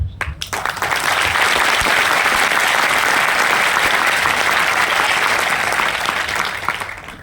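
Sustained applause from a large audience at a business success seminar in Kanpur, a dense, steady roar of clapping that rises quickly and holds loud and even throughout before easing slightly at the end.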